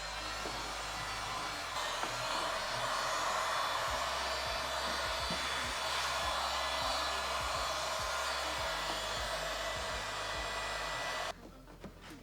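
A heat gun blows hot air during a snorkel install on a second-generation Toyota Sequoia, a steady loud whooshing hiss with a constant whine that cuts out near the end, with faint clicks and knocks beneath.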